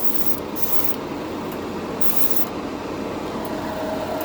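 A Harbor Freight airbrush powered by its combo compressor sprays in a loud, steady airy hiss that barely varies for several seconds, with slight pulsing dips and no voices.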